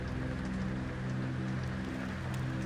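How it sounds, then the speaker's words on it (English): Steady, dense rain noise pours down evenly throughout a Thief fan mission level, a constant ambient downpour with no voices over it. "there's a little sound in amongst all this rain noise"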